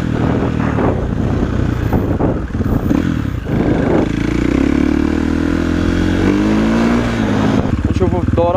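A KTM 450 SXF four-stroke dirt bike engine runs on a test ride, a close, loud, throaty rumble with revs rising and falling and rattling mechanical clatter, with someone talking over it.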